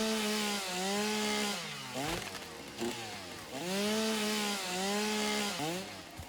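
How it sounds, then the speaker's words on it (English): Chainsaw felling trees in the factory-building game Satisfactory, a droning motor with rising and falling pitch sweeps as it bites and revs, repeating in two long cuts, loud and close, with some talk over it. "I just like the sound my chainsaw makes."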